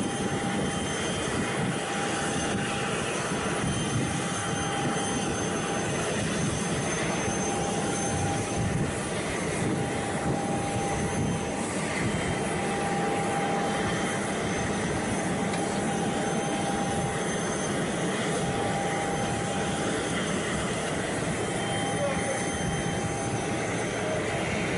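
Steady, continuous roar of a private plane's jet engine, loud and unbroken throughout with no talk, like standing near an aircraft on the ground.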